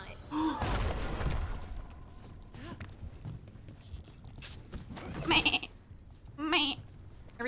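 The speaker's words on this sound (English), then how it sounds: "Every time I hear a goat" Goat bleats from the video game Dragon Age: The Veilguard sound in short, nasal, wavering cries, one early and two more later, over quiet in-game ambience and footsteps.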